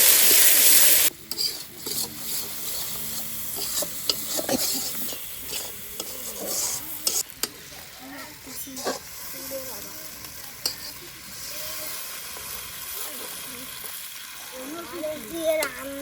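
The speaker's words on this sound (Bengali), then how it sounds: "আদা বাটা, জিরে বাটা, ধনে বাটা, মরিচ বাটা দিয়ে সব কষায় নিচ্ছি" Ground ginger, cumin, coriander and chilli paste with salt and turmeric sautés in a frying pan, scraped and stirred in repeated rasping strokes over a soft sizzle, with brief speech at points.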